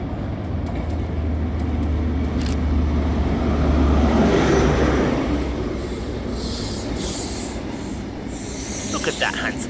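Class 43 HST power cars 43003 and 43032 rolling through Edinburgh Haymarket station, a broad rumble of wheels and engine swelling to a peak and easing, with brief wheel squeal and high metallic screeches.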